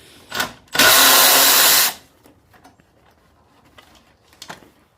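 Power tool running on the motor mount bolts of an 8th gen Honda Civic Si: a short buzz, then one loud whirring burst of about a second, followed by faint clinks and handling noises.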